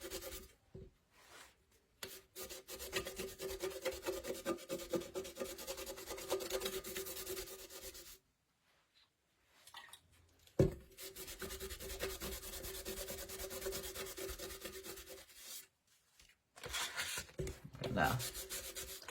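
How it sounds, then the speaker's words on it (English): Sandpaper and a wet rag rubbed over a Dollar Tree metal can make close, rhythmic scratchy strokes in bursts with short pauses between them. "Even once you get it started with your sandpaper, you could just take your wet rag and start rubbing."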